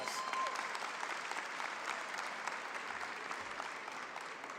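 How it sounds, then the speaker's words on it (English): Audience applause at a gathering with the Illinois governor and Chicago mayor on anti-violence programs, steady dense clapping from a large crowd, fairly distant and even in level, continuing without a break. "Give yourselves a round of applause."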